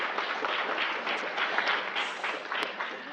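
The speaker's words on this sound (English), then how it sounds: "One more round of applause to our wonderful presenters." An audience at a Pacific Islander health gathering claps for the presenters, a short burst of continuous, fairly even applause heard from within the room.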